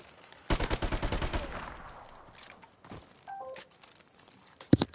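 A rapid burst of MP44 automatic fire with no attachments in a Call of Duty game, a dense string of sharp shots for about a second, then quieter rattles, clicks and a last close bang.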